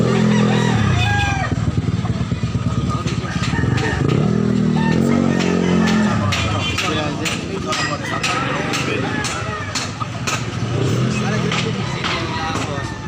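A bulik-patterned gamecock crows several times amid a noisy outdoor market scene at Carbon, Cebu, with people talking and an engine running nearby.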